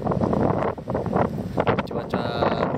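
Strong wind gusts across an open savanna on Mount Arjuno, buffeting the microphone with loud, continuous roaring bursts that rise and fall over the whole stretch.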